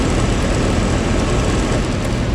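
The blower fan of a York packaged HVAC unit runs with a steady, loud, broadband roar and a deep rumbling low end, constant throughout with no voices.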